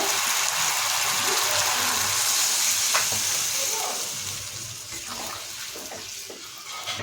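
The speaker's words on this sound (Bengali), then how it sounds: "মাংস কষা হয়ে গেছে, এবারে জল দেব।" Water poured into a pot of fried-down chicken curry with yam and potato, a broad hissing splash and sizzle close by that gradually softens as the pouring goes on.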